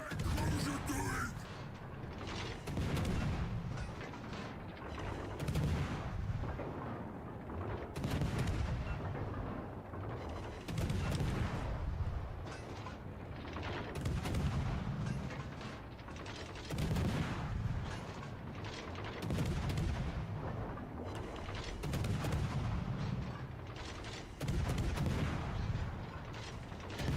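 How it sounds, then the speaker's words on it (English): Naval gunfire in the warship battle game World of Warships: Legends, repeated heavy booming salvos rolling through the whole stretch amid dense battle noise, with a voice talking over it. "Concentrate fire on that warship."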